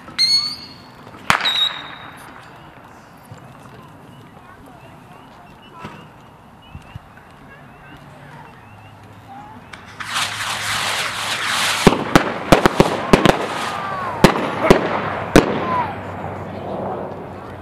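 Texas Rockets 1.4g consumer fireworks launching and exploding outdoors at a demo night, an early whistle and pops followed by a dense crackling barrage with sharp repeated bangs, loud and near, with some voices.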